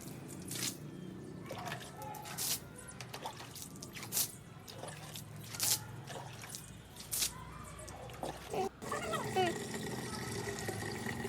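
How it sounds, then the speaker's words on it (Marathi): Water splashes and slaps in scattered bursts across a terrace being washed, with drips and wet squishing between them at a modest, moderate distance. "ते थोडंसं उरलेलं पाणी आहे ते पिळल्याला पण इथंच टाकून टेरेस पण थोडं धुवून घेतलं"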